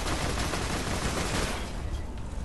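Gunfire in the video game Borderlands 2, heard as a dense, continuous burst of rapid shots with a harsh, noisy texture that thins slightly near the end.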